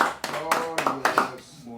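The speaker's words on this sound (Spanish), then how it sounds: "Bríndale un aplauso al Señor Jesucristo nuevamente" Church congregation applauding the Lord Jesus Christ, a short run of loose hand claps in uneven bursts that taper off, close and fairly sharp.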